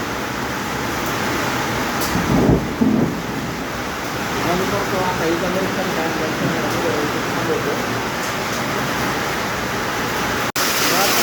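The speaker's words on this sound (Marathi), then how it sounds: "गारा पत्र्यावर कसं वाजायला लागलं" Hail mixed with heavy rain drums steadily on a metal sheet roof, a dense continuous clatter lasting throughout, with a brief spoken remark partway through.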